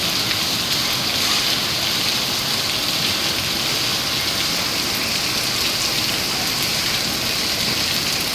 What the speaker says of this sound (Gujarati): ખૂબ સારી માત્રામાં વરસાદ